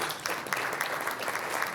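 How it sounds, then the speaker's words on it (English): An audience at an annual shareholder meeting applauds for presenters, a soft, even wash of clapping that is fairly distant and continues steadily without a break. "Let's give these gentlemen a round of applause, please."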